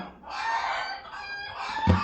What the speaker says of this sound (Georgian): ეს ქათმები არ დაიძინებენ?